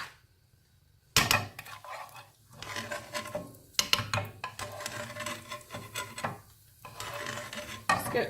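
A metal spoon scrapes repeatedly against a pan to clear off curry paste residue while a vegan massaman curry is made, giving several short rasping strokes up close that start after a quiet moment.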